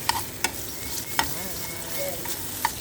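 Crushed garlic frying in a pan gives a soft, steady sizzle, punctuated by several sharp clinks of a utensil against the pan.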